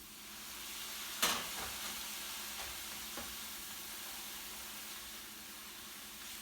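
Vegetable fried rice sizzles and hisses steadily in a hot pan after low sodium soy sauce is poured in, with a sharp burst of sizzle near the start that settles into a continuous, moderately loud fry.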